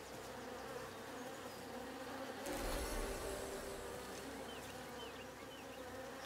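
Bees buzz around a hive in the Blacktail video game, a dense continuous swarm hum with a brief louder swell midway.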